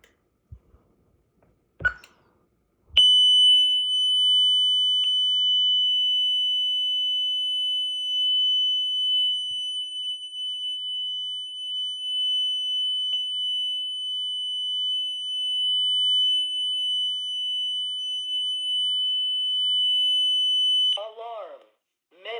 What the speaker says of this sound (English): Next up we will be setting off the panics one by one.